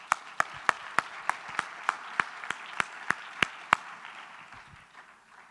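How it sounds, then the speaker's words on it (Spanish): A conference audience applauds with a steady, fairly quick clapping that has a strong regular beat over a softer wash of scattered claps, fading out toward the end. "nos merecemos un aplauso."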